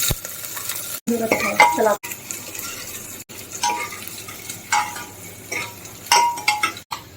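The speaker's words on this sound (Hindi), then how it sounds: "कटी हुई प्याज डाल दूंगी" Chopped onions fry with cumin in a pan, a moderate sizzle and hiss with scraping stirs and occasional clinks, briefly cut by short silent gaps; someone says a single word.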